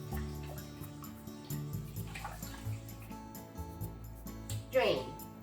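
Rice being rinsed in a bowl of water and stirred gently for shrimp mayo onigiri, a soft sloshing and trickling running steadily beneath a person talking.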